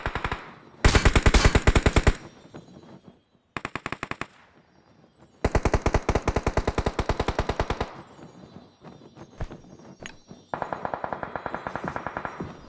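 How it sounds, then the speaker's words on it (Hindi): Gunfire in a battle royale video game, rapid automatic bursts rattling close and loud in several long strings with short pauses between them, with no voices. "अब इस बंदे को जैसे ही मैं नॉक करता हूँ मुझे पीछे से बहुत गंदे वाला फायर पड़ता है"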